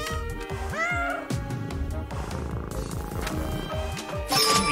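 Cartoonish cat meows repeat in quick succession over bouncy video game music and sound effects, several bright mewing calls stacked close together in a cat delivery game.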